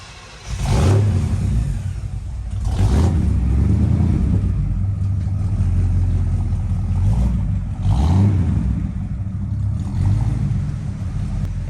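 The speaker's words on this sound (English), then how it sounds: "As Ken is pulling out the 58 Impala" A 1958 Chevy Impala pulling out for a test drive after a transmission swap and repairs, its V8 engine rumbling close by with several swelling revs and steady idle between them.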